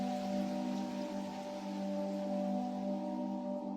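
Rain falls in a steady, even hiss across the whole stretch, soft and continuous, with a sustained low tonal hum running beneath it and no voices.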